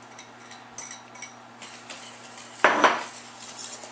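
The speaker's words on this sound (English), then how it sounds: "Give it a little stir here." A utensil stirs sugar into hot butter and water in a pot just taken off the heat, with a run of light metallic scrapes and taps followed by one louder clattering knock near the end.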